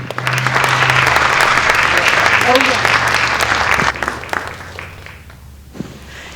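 Dense applause from a large lecture audience welcoming a speaker at a lifestyle medicine talk, loud and sustained before tapering off into scattered claps and room noise.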